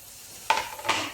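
Garlic, tomato and corn sautéed in a pan, with two distinct scraping clinks of a spoon against the pan over a soft, low background sizzle.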